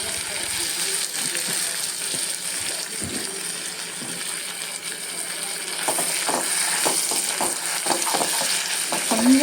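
Mashed sweet potato stirred into melted butter in a kadai, a constant buttery sizzle with scraping and squishing stir strokes that grow busier toward the end.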